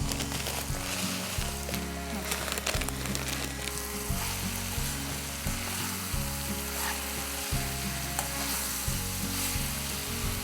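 Vegetables fry in oil for vermicelli biryani, making a dense, continuous sizzle with occasional stirring clatter that holds steady for the whole stretch.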